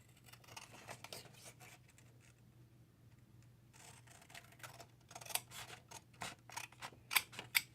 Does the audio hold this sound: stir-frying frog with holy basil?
no